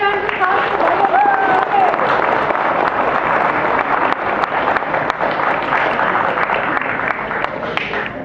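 Audience applause at a WRO 2018 robotics competition closing ceremony, a dense, sustained clapping crowd filling the hall, with voices mixed into it.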